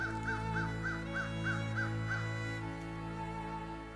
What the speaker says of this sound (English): Crows is a yelling this morning.